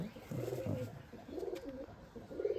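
Pigeons at a home loft coo in soft, low, repeated bursts, three rounded phrases close by with steady faint background noise and no talking.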